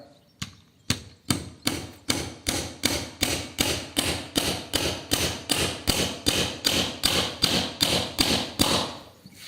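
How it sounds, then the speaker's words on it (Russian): A PATUOPRO 500 Nm cordless impact wrench is used as a hammer to drive a 70 mm nail into a wooden block, giving about twenty loud, sharp knocks at a steady pace of roughly two per second, with no talking. "Используем наш гайковерт в качестве молотка."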